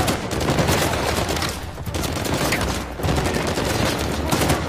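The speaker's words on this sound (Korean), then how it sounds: "폭탄 쏘는 것 같은데?" Bomb launcher firing in the video game Uncharted 4, heard as a dense, continuous barrage of loud blasts and gunfire with brief lulls, close and overwhelming.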